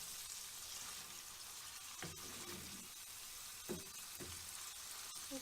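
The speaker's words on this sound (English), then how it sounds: "you're frying off your onions and bacon" Onions and bacon sizzle quietly in a pan, a faint steady frying hiss with a few soft stirring clatters and scrapes, no voices.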